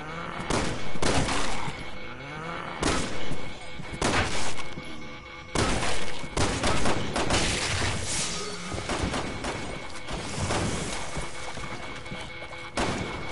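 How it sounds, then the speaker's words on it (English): Gunfire in the video game Resident Evil 6, loud repeated bursts and single shots with booming impacts, dense and continuous over a busy in-game soundscape. "Do we really have to shoot these people?"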